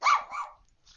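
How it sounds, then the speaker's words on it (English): A dog gives a quick, close bark in a single brief burst, then a faint trailing yip. "my dog is going crazy"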